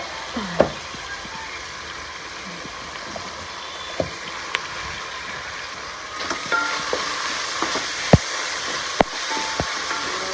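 Spices with turmeric and salt sautéing in a pan, a steady sizzle and fry with a spatula's scrapes and sharp taps against the metal, growing a little louder midway, with no voices.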